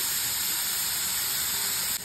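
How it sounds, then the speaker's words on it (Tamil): Tomato sautés in a pan for pepper rasam, giving a steady, even hiss of sizzling that holds for two seconds before dropping slightly at the end. "தக்காளி ஒரு நிமிஷம் வதங்கட்டும்"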